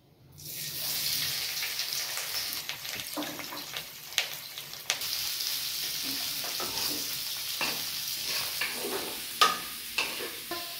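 Chopped onions sizzle loudly in hot oil with whole garam masala, a steady frying hiss with repeated scrapes and knocks of a spatula stirring the pan, close by and with no voices.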